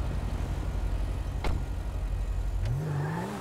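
Car engine in Grand Theft Auto V, a steady mid-pitched drone with a sharper rise in pitch near the end as the vehicle accelerates.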